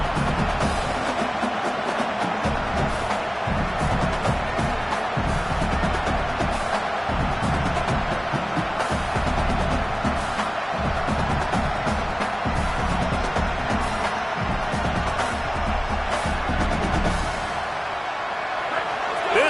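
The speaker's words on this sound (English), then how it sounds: "Crowd bringing the energy and noise early." Steady roar of a stadium crowd at a BBCFL football game, Reps versus Fitz, with occasional swells of cheering under continuous play-by-play commentary.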